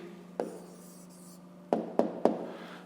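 Pen or chalk writes down a maths answer: a few sharp taps and short scratches, one early then three in quick succession near the end, close and quiet with no talk.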